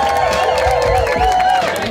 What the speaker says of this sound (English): In fourth position, a big round of applause for Rossi Diaforo.